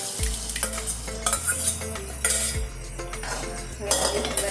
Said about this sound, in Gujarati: હવે બરાબર મિક્સ કરી નાખીશું।